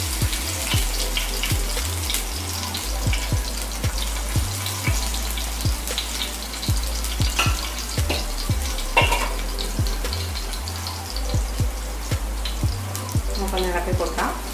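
White spring onion fries in hot oil for an egg fried rice, giving a steady loud sizzle and crackle throughout, with occasional scraping and clatter of stirring nearby.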